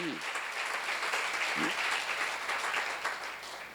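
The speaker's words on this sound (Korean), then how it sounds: "박수" A church seminar audience applauds together, a dense, even patter of many hands running steadily throughout at moderate loudness, with a voice briefly heard over it.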